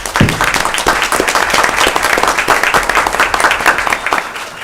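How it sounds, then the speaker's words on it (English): Loud, close audience applause at a county board of education meeting, a dense burst of hand clapping that holds steady and tapers slightly at the end. "Can we give them another hand clap?"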